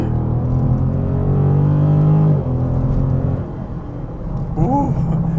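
A 2021 Dodge Charger Scat Pack accelerates on a highway, its engine rumbling loud and close from inside the cabin. The engine note rises steadily, then shifts and drops, and a voice exclaims briefly near the end.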